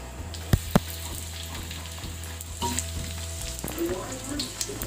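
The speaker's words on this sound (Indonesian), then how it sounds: "langsung saja kita goreng ya teman-teman" Filled cireng pastries fry in slightly foamy oil previously used for eggs, a close, loud crackling sizzle with sharp pops at the start and bubbling that settles into a steady hiss.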